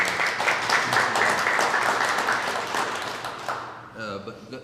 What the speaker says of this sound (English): let's give our lead man a round of applause